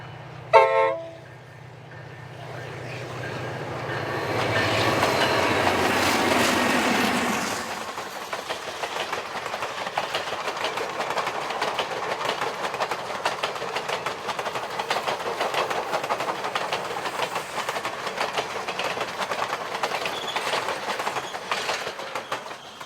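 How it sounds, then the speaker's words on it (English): Grand Canyon Railway passenger train on the former Santa Fe line between Williams and the Grand Canyon south rim; a horn blast opens, then a rumbling approach gives way to steady rhythmic clickety-clack of cars rolling past. "steam and diesel-powered trains hauling passengers by the hundreds daily on the 64-mile ex-Santa Fe line"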